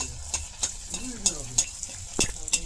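Phuchka puris frying in hot oil, with a steady sizzle and stirring, sharp clinks of a utensil against the pan at intervals, and a voice talking briefly in the background.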